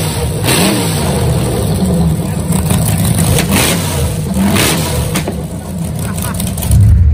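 A loud engine revs and rumbles steadily at a car cruise night outside a saloon, with a monster boat on display, under constant crowd chatter and nearby voices.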